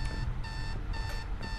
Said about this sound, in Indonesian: Press E to turn off alarm clock.